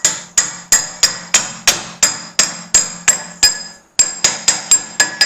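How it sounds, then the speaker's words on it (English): Hammer blows driving a part onto the mandrel nose of a Shenwai 900 lathe, a steady series of about fifteen sharp, ringing metallic strikes close up, with one short pause partway through. "Pause there to get a hammer"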